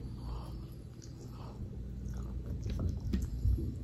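Quiet, wet chewing and biting on bony jerk chicken, soft irregular mouth sounds close to the microphone with no talking.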